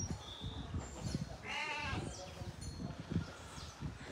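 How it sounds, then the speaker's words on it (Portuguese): Sheep on a rain-soaked farm bleating a few times at a moderate distance, one clear wavering bleat standing out over rustling and faint voices in the background. "As ovelhas aqui não sabem pra onde vai"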